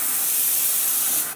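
An airbrush sprays paint at around 18–20 PSI, a steady close hiss lasting just over a second before cutting off sharply.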